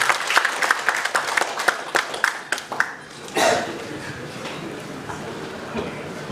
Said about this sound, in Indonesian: Kita beri aplaus hari ini sekalian.